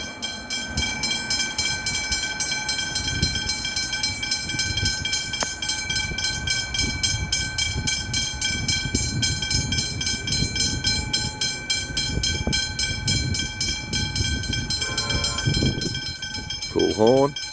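An EMD SD70ACE locomotive rolls past with a loud, steady rumble and clatter while its multi-tone horn sounds nearly continuously, ending in a few short blasts near the end.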